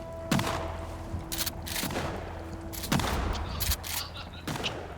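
Gunfire in the survival video game Sons of the Forest: several sharp, booming shots ring out at irregular intervals over a steady background rumble, with no clear talk.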